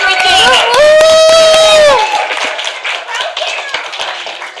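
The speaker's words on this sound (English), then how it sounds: "Let's give a big round of applause for Miss Regina." At a church Vacation Bible School gathering, a loud sustained vocal cheer gives way to a round of audience clapping, close and lively, mixed with crowd voices.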